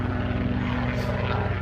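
A helicopter passes overhead near a free campsite on a hot day, its engine and rotor making a loud, steady droning hum with layered low tones that fills the whole moment without pause and with no voices.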